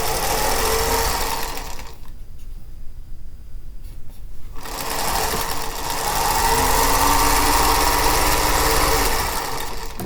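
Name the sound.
sewing machine stitching a seam on a quilt block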